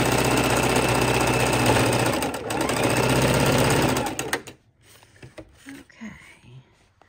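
A sewing machine runs loud and steady, stitching a raw-edge appliqué through several fused fabric layers, then stops abruptly, leaving faint handling noises and a brief voice.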